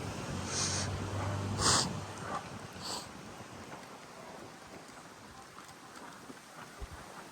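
Wind blowing along a city street in Tbilisi, Georgia: a steady broadband rush swelling and easing, with a few brief gusty bumps early on, no voices.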